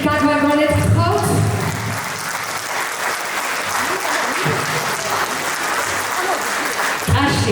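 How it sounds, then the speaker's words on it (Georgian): A concert audience claps loudly and steadily at a studio's year-end concert. The applause is dense and continuous, and a voice and a brief tonal sound can be heard at the start and end. "ტაში და აპლოდისმენტები გაგვაგონეთ"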